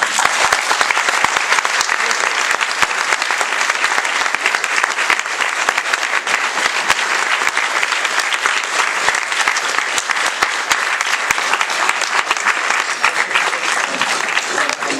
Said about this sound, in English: I just want to give a round of applause to them